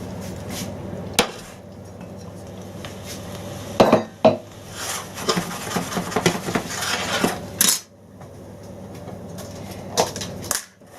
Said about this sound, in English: strain these potatoes and mash these, ready for to go on top of the minced beef